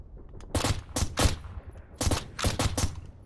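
A gun is fired from the hip in Strike Force 3 on PS5: two close groups of loud, sharp shots in quick bursts, separated by a short pause.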